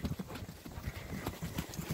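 A horse walks outdoors over ground with roots, its hooves giving a steady, close clip-clop rhythm of dull thuds throughout.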